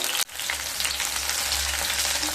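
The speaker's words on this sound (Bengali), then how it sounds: "ডাঁটাগুলোকে হালকা ভেজে নেব" Drumstick (moringa) pieces frying lightly in plenty of oil for a milk-drumstick curry, a steady dense sizzle after a brief silent gap at the start, close and continuous with no voices.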